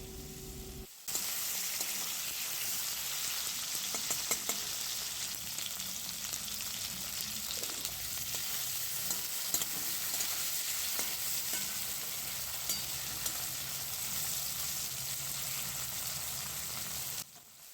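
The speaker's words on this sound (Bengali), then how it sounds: "কালো জিরে ফোড়ন তারপর কেটে রাখা টমেটো আর আলুর টুকরোগুলো ওর মধ্যে দিয়ে দেওয়া হলো আলু আর টমেটোটাকে ভালো করে ভেজে নেওয়া হবে" Potato and tomato pieces sizzle in hot oil with nigella seeds, a continuous bright frying hiss with occasional crackles and stirring scrapes, close and steady after a brief quiet start.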